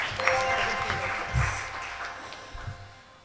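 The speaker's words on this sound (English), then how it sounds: "So let's keep the applause going." At a schools quiz competition, an audience keeps up a soft, distant round of applause, a low steady patter of clapping with some voices and crowd murmur mixed in.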